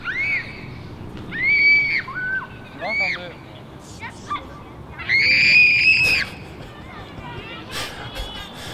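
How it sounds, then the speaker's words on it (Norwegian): Children screaming and shrieking at a kindergarten near a disc golf course, heard as repeated high shrill bursts at moderate distance over steady outdoor ambience, with voices also present. "Det var mye skriking fra barnehagen her"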